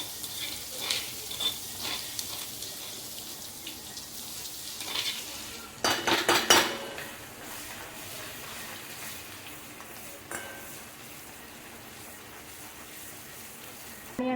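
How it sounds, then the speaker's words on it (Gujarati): Cumin and garlic masala tempering in hot oil, a soft sizzle with bursts of spatula scraping and clatter in the middle, then a quieter fry, fairly close. "જીરુંનો વઘાર કરી એમાં આપણે જે મસાલો ખાંડ્યો હતો આ મસાલો એડ કરી દઈશું."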